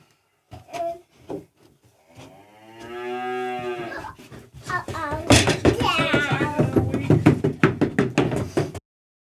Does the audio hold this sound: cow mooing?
yes